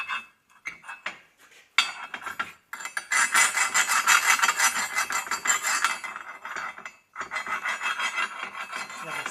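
Slag is scraped and brushed off a 6011 stick-weld bead. Harsh, continuous rasping strokes sound up close and loud, pausing briefly now and then.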